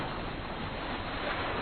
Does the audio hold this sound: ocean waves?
yes